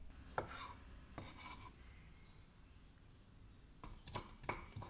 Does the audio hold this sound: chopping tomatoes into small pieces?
yes